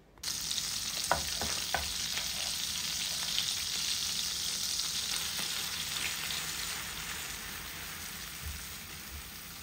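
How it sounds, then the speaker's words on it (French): Butter, about 50 to 60 grams, melts in a frying pan with a steady close crackling sizzle, a few louder pops early on, and no talking. "dans une poêle, je rajoute du beurre, environ 50 grammes, 50-60 grammes, que je vais faire fondre"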